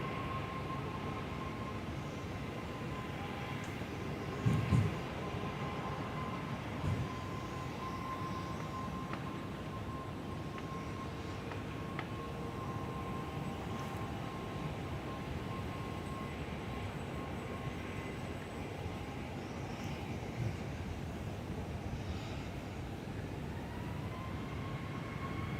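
A Virgin Australia jet on its takeoff roll at Perth airport builds a steady, broad engine roar with a faint whine. It is heard from a distance and stays constant throughout, with a couple of brief knocks nearby.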